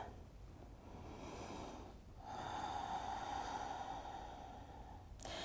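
Slow, deep breaths during a floor stretch for the front of the left hip, a long airy exhale drawn out over several seconds, soft and close with no talking.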